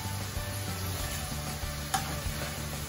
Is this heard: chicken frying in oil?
yes